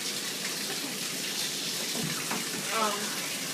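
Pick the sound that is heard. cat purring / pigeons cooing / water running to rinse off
water running to rinse off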